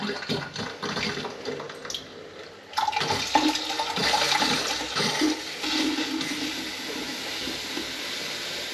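Tap water runs after an under-sink water filter is changed, starting with a few short spurts and gurgles before a steady, close gushing stream settles in and fills a container, with no voices.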